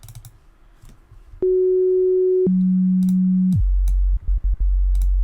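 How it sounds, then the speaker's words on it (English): A pure synthesized sine tone with a pitch envelope, shaping a hardstyle kick, holds one pitch, steps down to a lower one, then drops to a deep low hum, with faint clicks around it. "we're going to use a synth that can generate a sine wave"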